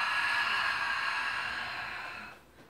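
A long, breathy exhale through the mouth during a Pilates-style workout, a steady airy whoosh that fades out near the end, close and alone.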